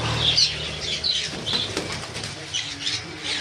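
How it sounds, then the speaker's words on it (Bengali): Diamond doves flutter their wings in short, soft flapping bursts, fairly close, with faint bird calls mixed in among the busy chatter of a bird sale setting. "বন্ধুরা এখানে কিছু ডায়মন্ড ডাব আছে"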